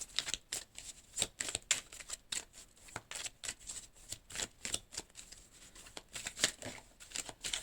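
Tarot cards are shuffled in quick, crisp riffling bursts, a close, quiet run of rapid flicking snaps repeating steadily with short pauses and no voices.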